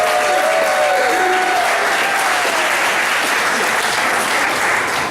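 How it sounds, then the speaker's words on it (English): Concert audience at Knott's Berry Farm gives a full, loud round of applause for a live hillbilly band show, dense continuous clapping with a few cheers and whistles rising over it. "Please give yourselves a big round of applause."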